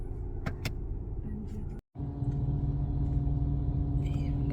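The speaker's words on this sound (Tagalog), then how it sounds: "Maingay na ang barko." A ship's engine drones in a low, steady rumble, loud and close, continuing throughout with a brief cut near the middle and a few short higher clicks early on.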